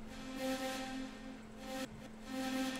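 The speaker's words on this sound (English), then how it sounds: "now you have a distorted vocal drone." A quiet, sustained vocal drone with a gritty, distorted edge holds a steady pitch, swelling slightly in and out.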